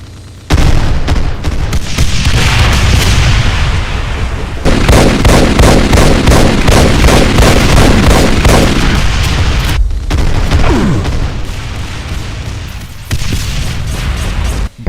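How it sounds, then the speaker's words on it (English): Rapid barrages of rocket fire and explosions from a Mastermind in a Doom mod, loud and dense, with booming blasts continuing almost without pause and a brief lull near the end. "it can fire barrages of linear rockets,"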